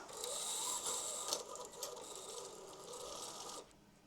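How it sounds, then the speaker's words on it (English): An embroidery machine runs while stitching a new thread colour, a fast whirring mechanical chatter with rhythmic clicking that holds steady for about three and a half seconds, then stops abruptly. "Let's fire the machine up, get a new color on."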